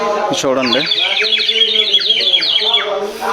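Birds call outdoors at Tirumala in close, repeated bright chirps and whistled notes, with someone speaking briefly at the start over the song.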